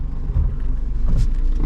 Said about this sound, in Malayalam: മെല്ലെ വണ്ടിയുടെ ബാക്ക് റൈറ്റ് സൈഡിലേക്ക് പോവുകയാണ്.